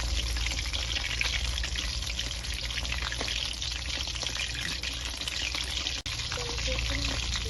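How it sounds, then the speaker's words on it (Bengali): Chicken momos frying in a pan with light steam, a dense continuous hiss and crackle held at an even level throughout, with no voices. "হালকা স্টিমে ভেজে নেবেন এইভাবে।"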